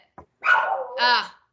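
A dog barks twice, close and loud, with a soft yip first, then a rough bark and a higher whining bark, heard in a quiet room.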